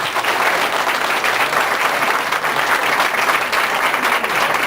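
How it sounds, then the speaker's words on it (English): Sustained audience applause for veterans at a Korean peace medal presentation ceremony, dense steady clapping filling the room without pause, loud and close throughout. "Please applause for our veterans' contribution."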